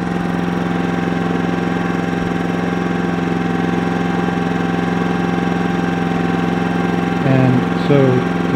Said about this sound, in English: The generator is a Yamaha 2400.